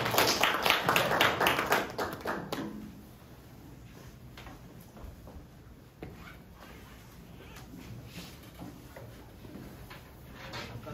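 A congregation at a men's worship service claps in a loud, dense burst for a couple of seconds. It then drops to faint scattered taps and room noise.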